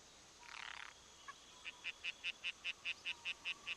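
A tree frog croaks in a steady series of about ten short, evenly spaced calls after a brief rasping burst, fairly faint over a soft hiss, with no one talking.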